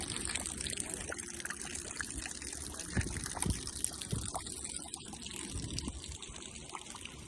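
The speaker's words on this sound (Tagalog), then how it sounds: "Naglalaro sila ng water." Children playing with water outdoors make a continuous trickling, splashing rush with small irregular bursts, moderately close and fairly soft throughout.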